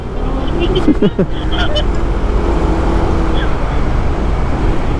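Steady, loud road traffic rumbles near a bike lane in hot, congested conditions, with a few faint horn-like tones early on and people talking over the constant drone.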